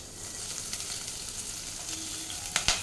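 Chopped garlic and green chillies sizzle in hot oil in a pan for baby corn Manchurian, a steady near frying hiss with a couple of sharp clinks of stirring near the end, no talk.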